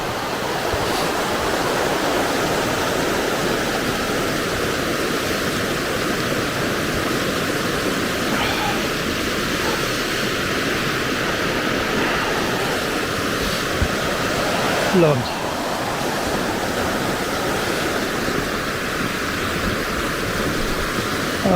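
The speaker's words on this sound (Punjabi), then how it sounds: "ਦਰਿਆ ਦੀ ਆਵਾਜ਼ ਸਾਰੀ ਰਾਤ ਕੰਨਾਂ ਦੇ ਵਿੱਚ ਪੈ ਰਹੀ ਸੀ" A river rushes steadily through snowy mountains in Canada, a broad, even roar of water that holds constant throughout, with a brief spoken word near the middle.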